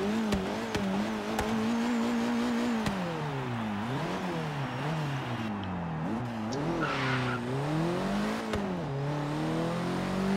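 A Ford Focus RS in the racing game Forza Horizon 3, driven in the rain, revs and accelerates repeatedly. The engine drone climbs and drops through gear changes, loud and steady, with tire noise and no talking.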